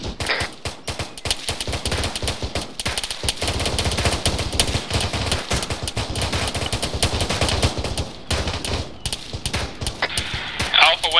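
Sustained gunfire in the military video game Arma 3 as a squad lays down suppressing fire to the north, with dense overlapping automatic bursts and single shots over about eleven seconds and voices calling out beneath the shooting.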